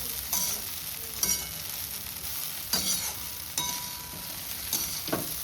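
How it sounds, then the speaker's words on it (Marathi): Flattened rice (poha) stirred in a pan on a gas stove, with a steady soft sizzle and several distinct scraping stir strokes at irregular intervals, close and moderately loud, no talking. "आणि त्यांना मिक्स करू आपण."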